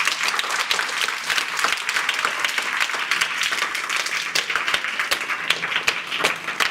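An audience claps together at a public event honouring a Food Commission chairman. The dense, loud applause holds evenly throughout, with a faint murmur of crowd voices beneath it.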